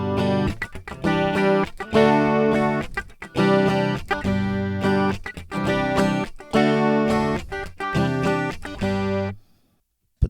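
An electric guitar with a distorted, effects-laden tone strums the chords of the worship song Waves of Mercy in loud, full bursts with brief breaks between them. It ends abruptly in silence, and no one speaks.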